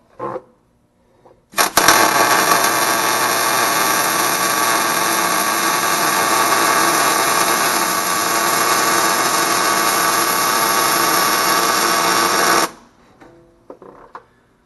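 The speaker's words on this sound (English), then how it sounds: "I'm going to go ahead and weld" Welding a support bead along a steel edge produces a loud, steady buzzing crackle that starts suddenly, holds evenly for about eleven seconds and then stops, with brief handling noises before and after.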